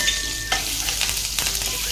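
Ginger garlic paste and curry leaves frying in hot oil, a close, continuous crackling sizzle with brief spatters and stirring scrapes.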